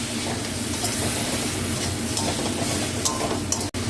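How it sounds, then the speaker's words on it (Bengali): Kashmiri chili powder being stirred in a frying pan, a dense, loud sizzle with scraping of the spoon throughout and a brief dropout near the end. "এবার আমি কাশ্মীরি লঙ্কার গুঁড়োটা দিলাম, দিলাম, এবার নাড়বো একটু"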